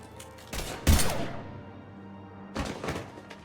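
Gunfire erupts in Mass Effect 3, two short, sharp clusters of heavy shots with thudding impacts, separated by a quieter lull with a lingering tail.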